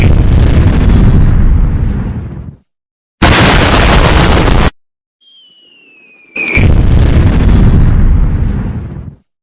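Loud booming blasts of artillery shells arrive in bursts separated by brief silences, with a whistling streak before the final heavy explosion.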